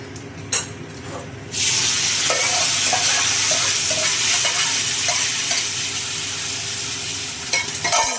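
Bottle gourd tossed into hot oil with cumin seeds and a homegrown bay leaf, bursting into a loud, steady sizzle with scraping stir strokes and occasional clinks against the pan.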